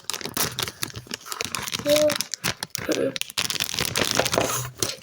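A plastic wrapper of a SpongeBob collectible packet crinkles and tears open up close, rustling in bursts while a person talks over the noise.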